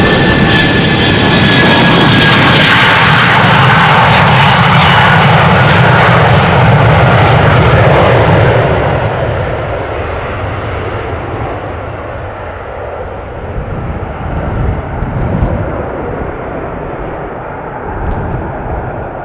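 A jet airliner takes off from runway 36L at Amsterdam Schiphol, its engines roaring loud and close, then fading into a long, distant rumble as the plane climbs away, with no voices.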